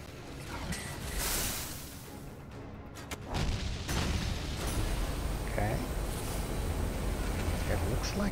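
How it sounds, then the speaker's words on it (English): Bombs go off in Meet Your Maker, a series of heavy booms and rumbling blasts over a continuous noisy backdrop, loud and sustained, with a player talking over parts of it. "Here comes the bombs."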